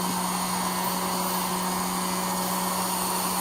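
A rotary polisher works a silver cane with a fine 10,000-grit pad in a steady, continuous whir with a constant tonal hum, close and even throughout, with no talk.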